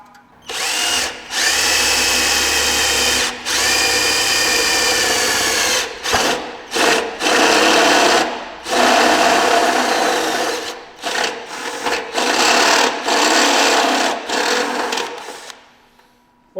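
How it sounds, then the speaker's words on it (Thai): A power drill with a step bit whines loudly and steadily as it bores into steel box tubing, pausing briefly several times before winding down near the end. "เดี๋ยวเรามาลองนะครับใช้ดอกตัวนี้นะ ในการเจาะ เหล็กกล่องนะครับ"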